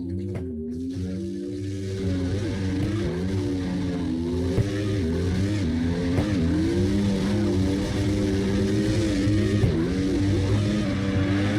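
A car drifts in the video game CarX Drift Racing Online, its engine note wailing and wavering steadily up and down in repeated rev swings, alone without voices.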